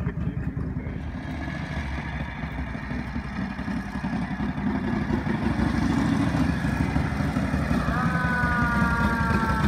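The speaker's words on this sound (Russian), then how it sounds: "Сирена громкая." A siren mounted on a Harley-Davidson WLA motorcycle wails loudly and steadily, rising in pitch toward the end, over a rumbling engine in a dyno test.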